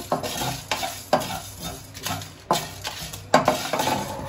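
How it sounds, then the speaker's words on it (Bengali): Fennel, coriander, cumin and dried chillies are dry-roasted in a pan, with a spoon repeatedly scraping and stirring them in sharp rhythmic strokes and a light sizzle underneath, close up and without talk. "এটার আমি একটা ভাজা মশলা রেডি করে নেব।"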